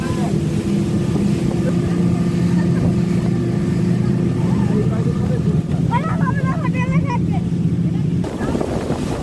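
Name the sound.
boat ride on the water at Maithon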